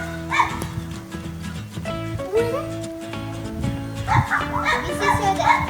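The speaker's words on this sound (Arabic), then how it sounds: "وتعالوا نشوف هلا الكلاب السود" Several black dogs on a farm give a few short barks and yips amid children's chatter and someone talking close by, in a busy outdoor scene.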